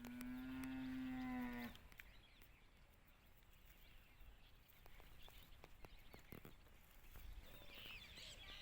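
A loud, drawn-out moo from a cow at a cattle shelter in Kankrej, Banaskantha opens the scene. Quieter farmyard ambience and faint distant bird calls follow.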